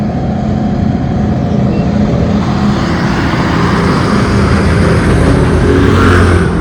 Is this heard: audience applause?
no